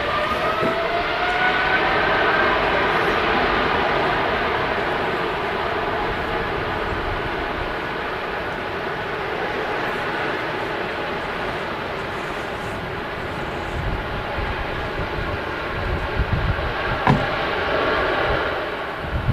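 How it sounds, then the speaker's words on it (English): A Qatar Airways Boeing 777-300ER jet departs Manchester Airport bound for Doha, its engines giving a loud, sustained roar that holds steady for the whole stretch without any talk over it. "What a fantastic sound from the Qatar 777-300ER heading back to Doha."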